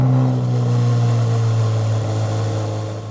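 A tuned car at an outdoor cars-and-coffee show runs with a loud, close, steady low engine drone that eases off slightly toward the end, no talking.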